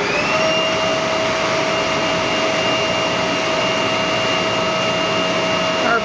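A Cencorp TR2100 router's heads spin up toward about 2400 RPM, giving a loud, continuous whining roar with steady tonal hums throughout, no talking.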